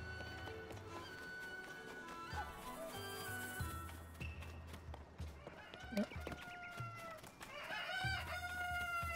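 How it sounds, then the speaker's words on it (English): Chickens clucking and a rooster crowing in The Legend of Zelda: Tears of the Kingdom, with repeated clucks over a steady musical and ambient game background and fairly close calls toward the end. "Just chickens."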